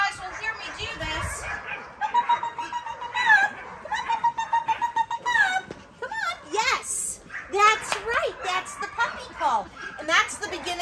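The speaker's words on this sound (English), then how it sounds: "they're starting to learn the puppy call. So a lot of you guys will hear me do this." A dog trainer gives a high-pitched, sing-song recall call to a group of young puppies, the repeated rising and falling tones carrying over faint yips, with a little background chatter.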